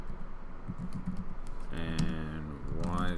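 Quick bursts of keystrokes on a computer keyboard while coding in an IDE, soft clicks in a rapid run, with someone talking over the latter half.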